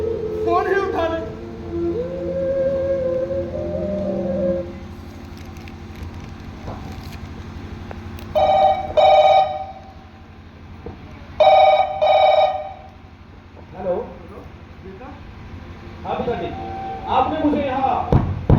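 A telephone rings in repeated bursts that go unanswered, a bright trilling tone heard in several separate rings between stretches of talking voices and some background clatter.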